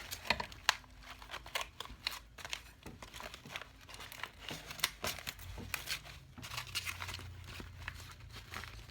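Stabilizer backing being torn off the back of a machine-embroidered hat, giving repeated crinkly ripping and crackling bursts close by, with no talking.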